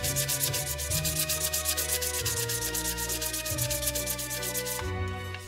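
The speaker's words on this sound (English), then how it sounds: "I'm going to sand the outside of every part." Steady back-and-forth rubbing of 1200-grit wet-dry sandpaper on resin, a rapid scratchy rhythm repeating evenly, close up, with no voices.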